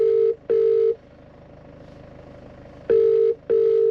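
An outgoing phone call rings through a car's speakers in two double ring bursts, loud and close, separated by a longer quiet stretch with faint background hum.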